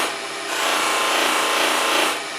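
A turned wooden salt box held against a spinning buffing wheel loaded with buffing compound gives a steady, loud, close rushing rub that swells slightly in the middle and lasts a couple of seconds, with no speech.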